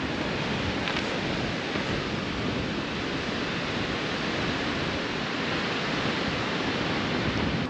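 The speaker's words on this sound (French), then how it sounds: "On dormira plus en bord de plage. Il y a trop de vent." Strong wind on a northern French beach, blowing with crashing surf in a continuous, loud roar that buffets the microphone steadily and never lets up.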